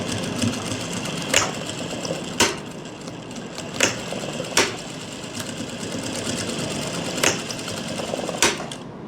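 Sewing machine running in short bursts as it stitches elastic into the waistband of palazzo pants, a steady mechanical whir punctuated by sharp clicks, close and loud with no talking.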